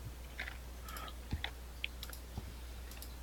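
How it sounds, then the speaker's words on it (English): Light typing on a computer keyboard, with sparse, faint clicks and taps scattered irregularly over a low background hum. "whoever's typing, I can hear you"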